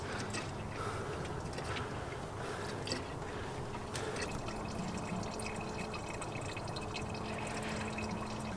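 Coolant draining from a V8-swapped Volvo into a catch container, a steady wash of running liquid with faint drips, continuous and close throughout.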